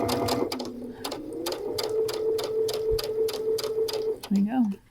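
A Brother sewing machine stitches piping cording onto a fabric edge, a fast, even needle patter close by, while someone talks over it and it stops near the end.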